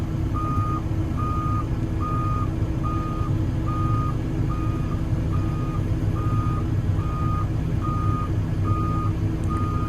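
A truck's reversing alarm beeps in an even, regular rhythm, about a dozen tones over a constant low engine rumble, with no talk.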